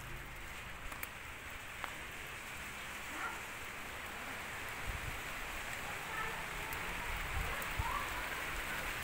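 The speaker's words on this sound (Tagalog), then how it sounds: "Ay, lakas na ulan." Heavy rain pours steadily as a dense, continuous hiss on a garden, loud and unbroken, with faint voices and a few distant knocks underneath.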